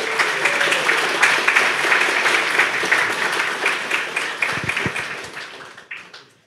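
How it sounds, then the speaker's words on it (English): An audience at a Vintage Computer Festival East roundtable applauds, dense clapping that carries steadily and then tapers off to a few scattered claps near the end. "Give a round of applause"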